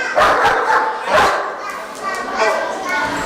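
A dog barks while guarding belongings, several sharp barks spaced across a few seconds, loud and close, with children's voices and talk mixed in around them.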